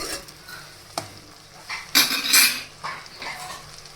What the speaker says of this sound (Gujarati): હવે આપણે બધી વસ્તુને હલાવીને સરસ રીતે મિક્સ કરી લઈશું